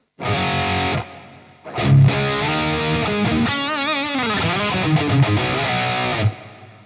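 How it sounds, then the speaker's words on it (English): Distorted electric guitar through a Neural DSP Fortin Nameless Suite X plugin, playing sustained chords and bending notes, with a washy reverb tail lingering after the strums, loud and close. "then there's your reverb"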